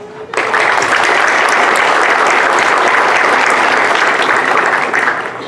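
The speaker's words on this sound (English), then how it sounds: "Will you please help me recognize these donors with a round of applause?" A round of applause from the audience at a 4-H awards banquet honouring donors: loud, dense clapping starts abruptly, then continues steadily for about five seconds before tapering slightly.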